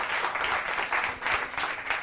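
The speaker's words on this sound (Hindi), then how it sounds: "जोरदार ताली अरुण पांडे जी के लिए" A poetry gathering audience claps loudly and steadily in celebration of poet Arun Pandey, a dense sustained burst of applause with no voices on top.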